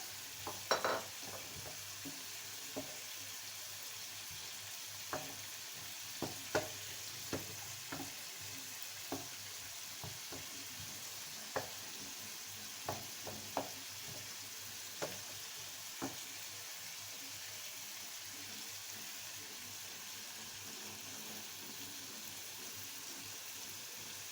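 Mushrooms and onions sizzle quietly in a pan, with scattered sharp clicks and taps of stirring over a steady soft hiss.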